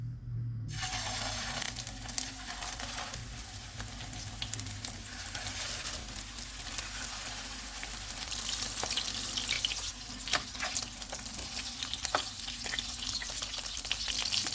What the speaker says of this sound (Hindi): इस तरह से तैयार करके इनको फ्राई कर लेंगे।